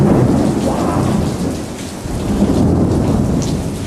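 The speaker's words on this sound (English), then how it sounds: "As the rain and thunder strikes." Heavy rain pours during a thunderstorm in the Bahamas, a dense continuous hiss of rain on surfaces with deep rolling thunder swelling and fading underneath, close and loud, with no talking.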